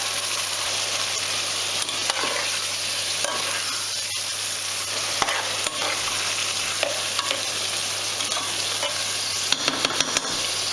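Chopped fresh tomatoes going into a pot of okra stew with beef and eggplant, giving a steady close-up sizzle and stirring hiss with occasional scrapes and bubbling pops throughout.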